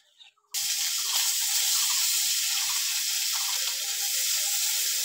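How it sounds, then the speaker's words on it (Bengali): River parshe fish fry in hot oil, a loud, dense sizzle that bursts in after a short quiet opening and holds steady throughout without talk. "মাছগুলো এইভাবে একটা একটা করে সব ভেজে নেব।"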